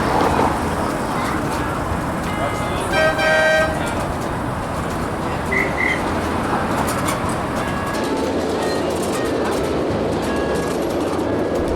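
A small live steam train runs by on a miniature railroad in Griffith Park, Los Angeles, with a rumbling, hissing rush, and a short whistle toots partway through; voices murmur in the background.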